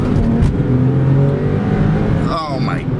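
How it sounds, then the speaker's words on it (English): A 2003 Porsche 911 Carrera 996 coupe accelerates hard on a road, with a deep, loud, steady engine and exhaust growl under a brief spoken remark from inside the car. "you get this baritone, deep intake growl, exhaust growl, everything, the engine, the mechanicals, just lovely to listen to."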